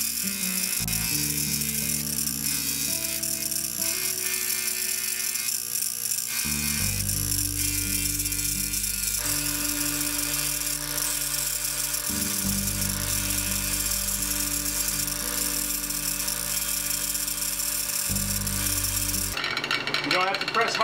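Wire brush wheel spinning on an arbor against a handsaw blade being polished, a steady motor hum with bursts of harsh scratching, continuous and close.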